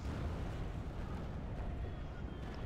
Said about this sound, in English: there's two ballistas right there firing simultaneously